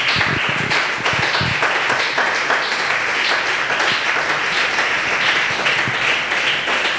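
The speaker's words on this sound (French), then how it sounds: "Est-ce qu'on peut acclamer très fort pour le Seigneur?" A church congregation applauds loudly and steadily in praise of the Lord, dense sustained clapping filling the hall with a few shouts blended in.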